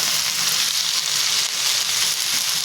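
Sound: drumstick (shevga) leaves being roasted in a pan

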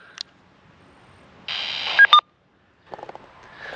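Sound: radio DTMF tones keying repeater node

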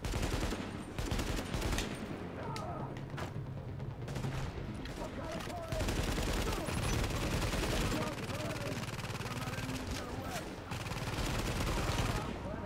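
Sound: gunfire in the video game The Division

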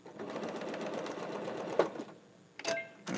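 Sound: sewing machine stitching quilt fabric

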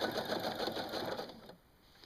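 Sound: sewing machine stitching elastane onto a prefold diaper

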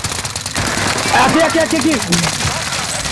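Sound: gunfire in video game Call of Duty: Modern Warfare

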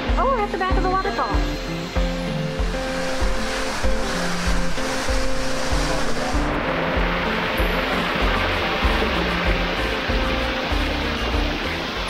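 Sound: waterfall

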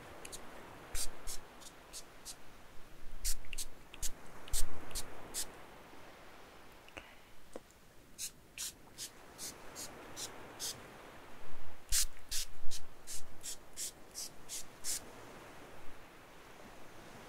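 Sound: spray bottle misting

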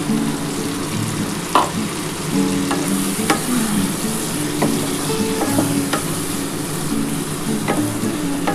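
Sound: spice water added to frying chicken, sizzling

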